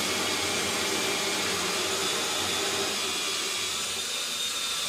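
A prototype wall anchor bit drills a 20mm hole through board into the brickwork behind it, giving a steady, broad, hissing drilling whine that runs without a break and is heard alone, with no voices.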